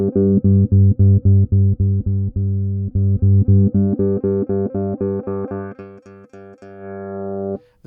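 Alembic SF-2 band-pass filter swept across a repeating bass-heavy synth pattern gives a wah-like tone, with pulsing notes that brighten and thin as the filter opens near the end.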